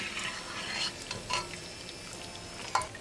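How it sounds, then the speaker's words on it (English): Cashews fry in hot desi ghee with a soft, continuous sizzle, broken by a few sharper pops and the occasional stir of the pan. "the cashews start changing color. They are nicely fried"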